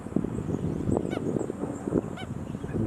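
Two sharp, yapping cries from a stilt parent defending its chick on the Cooks River, set against rustling, breezy outdoor noise. The calls are spaced about a second apart and moderately distant.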